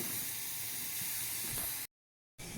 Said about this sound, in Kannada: ನೀರು ಕುದಿ ಬರಲಿ ಸ್ವಲ್ಪ.